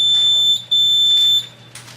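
Shrill, piercing alarm tones blaring in two long beeps separated by a brief gap, loud and close.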